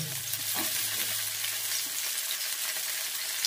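Onion and beans fry in a pan with a constant, even sizzle and a faint low hum underneath, with no voices over it.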